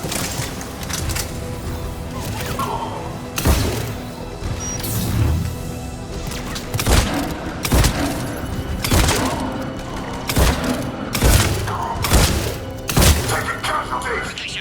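Battlefield gunfire in the sci-fi shooter Mass Effect 3, with heavy booming shots and crashes landing every second or so over a rumbling background, while soldiers call out over the combat.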